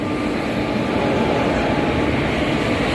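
The Simhadri Express pulls into a station with a continuous loud rumble and rolling roar of wheels and carriages, steady and close throughout.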